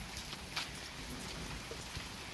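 Steady rain falling outdoors during a cold downpour, a soft, even hiss of drops on surfaces with no pauses, fairly faint and continuous throughout with no voices.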